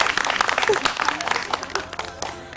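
A studio audience on a morning television show breaks into brisk, lively clapping, a short dense burst that tapers off toward the end.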